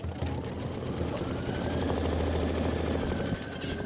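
An embroidery machine stitches a satin outline on a Kimberbell quilt block, a steady fast mechanical whirr and rattle running continuously, close and loud, then stopping briefly near the end.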